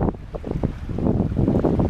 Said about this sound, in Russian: Тут сильный ветер